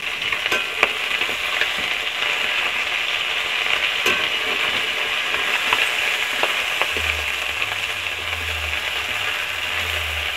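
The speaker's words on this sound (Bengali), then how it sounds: "তাই আমি মাছটাকে ভালো করে তেলে সম্রে নিচ্ছি" Whole river tengra fish fry in hot oil with a continuous, bright sizzle, speckled with pops and a few sharp ticks of a utensil against the pan; no voices.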